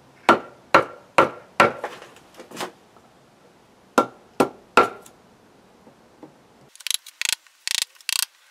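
A gouge is struck into wood while carving bowls for small coffee scoops, producing sharp, close, evenly spaced knocks in two runs, followed by quicker, lighter scraping cuts.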